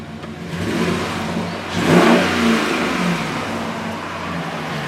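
An engine fitted with a Rough Country cold air intake idles steadily, then is revved once around the middle, with a quick rising surge that settles back to idle, close by and without talking.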